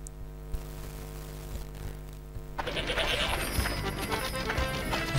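Goats bleating in the PS1 game Hercules, a few short cries over a steady in-game music bed that grows busier and louder partway through.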